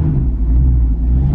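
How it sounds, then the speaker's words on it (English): A 2018 Dodge Challenger with a Corsa Extreme exhaust rumbles nearby, a deep steady low-end burble that holds loud and even throughout with no voices. "That's her car making all that ruckus right now."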